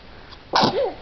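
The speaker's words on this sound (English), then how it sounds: "Bless you." A 6½-month-old baby girl gives one quick, sharp sneeze, close and loud, after a brief quiet pause.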